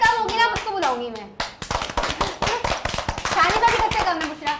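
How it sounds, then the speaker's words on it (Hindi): A group of children claps hands in quick, uneven bursts of many overlapping slaps, loud and close, while young voices call out over the applause. "अरे बजाओ ताली। तालियां तो बजाएं"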